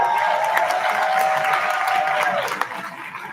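Graduation crowd for the class of 2025 applauding steadily at mid distance, a dense wash of many hands with a voice speaking over it before the clapping thins near the end.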